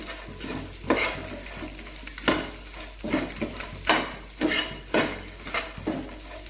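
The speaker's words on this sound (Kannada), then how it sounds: "ಮಿಕ್ಸ್ ಮಾಡೋಕ್ಕೆ ಸ್ಟಾರ್ಟ್ ಮಾಡಿದೆ" A spoon stirs food around a sizzling pan in a home kitchen, with rhythmic scraping strokes about once a second over a continuous frying hiss, close and clear, with no talking.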